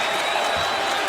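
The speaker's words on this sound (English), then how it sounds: "on their feet applauding" Basketball arena crowd at a Lakers–Clippers game standing and applauding in tribute to Kobe Bryant, a dense, steady wash of clapping and crowd noise filling the space without pause.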